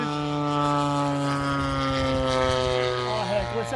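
A Great Planes 50cc Revolver RC airplane drones overhead on its maiden flight, its petrol engine a loud steady buzz that shifts pitch slightly as it passes, with a voice speaking faintly underneath.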